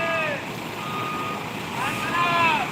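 At a night bus terminal, a luxury coach's reversing alarm sounds in repeated high beeps over distant traffic rumble and faint wind, with the beeping swelling louder toward the end.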